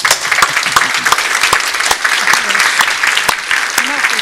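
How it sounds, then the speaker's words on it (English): An audience at a democracy and rule-of-law symposium in Stockholm applauds panelists, with steady, dense clapping filling the room and a few louder sharp claps throughout; a voice speaks briefly underneath. "let's give them a round of applause"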